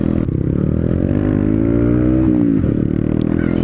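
Honda CB125R motorcycle engine revving hard and loud close by, pitch dipping and climbing again around a downshift, a steady buzzing drone throughout with no talk.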